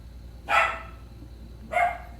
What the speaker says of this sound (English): I'm sorry, this is my dog.